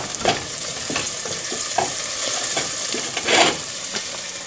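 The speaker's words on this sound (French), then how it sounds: "On va mélanger ça." Carrot and chickpea soup with oil and turmeric powder stirred in a pot, a spoon scraping and clinking in steady strokes over a constant close sizzle, with no talking.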